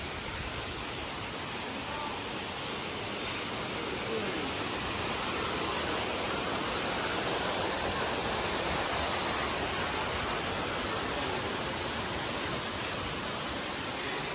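A steady, even roar of falling water fills the scene, constant and broad, a waterfall heard from nearby at Harishankar temple, Balangir.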